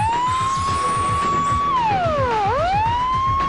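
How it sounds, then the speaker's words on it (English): The fire station alarm siren at the Chernobyl nuclear plant wails loudly, holding a steady tone before dipping sharply and rising again, with a low rumble beneath it. "The alarm goes off at the plant's fire station."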